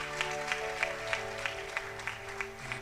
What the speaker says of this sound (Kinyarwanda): Tukomere Imana amashyi cyane.